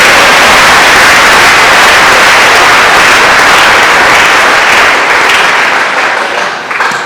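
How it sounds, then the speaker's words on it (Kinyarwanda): Dense, loud applause from a gospel worship gathering praising God, steady and unbroken for several seconds before easing slightly at the very end. "Imana ikomerwe amashyi cyane"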